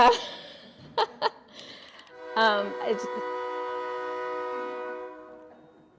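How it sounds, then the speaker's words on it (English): A passing train sounds its horn: after a few short blasts, one long sustained chord follows and slowly fades as the train moves on, heard at a moderate distance with some background rumble. "And here comes the choo-choo."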